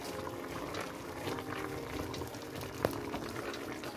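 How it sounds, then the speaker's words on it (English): Egusi soup boils in a pot with a faint, steady bubbling simmer, a single brief knock of the spoon against the pot standing out midway. "Watch how I stir the soup."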